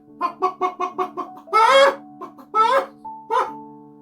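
Chickens cluck in a rapid run of short calls followed by a few longer, drawn-out squawks, close and loud with no talking.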